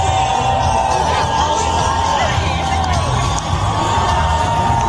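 A large outdoor crowd at a New York City inauguration block party cheers and whoops steadily, a dense roar of many voices with scattered shouts rising over it.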